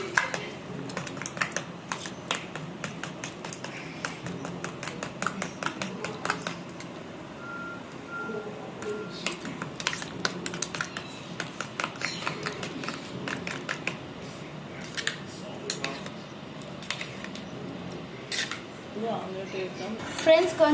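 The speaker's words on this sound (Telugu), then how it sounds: "ఇప్పుడు మిక్స్ చేసుకోవాలి ఫ్రెండ్స్" Egg mixture for a homemade omelette is beaten in a bowl, giving quick, light, irregular clicks of a utensil against the bowl, fairly faint over a soft background.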